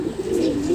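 A young racing pigeon coos steadily at close range, a soft low rolling call filling the short moment alone without voices.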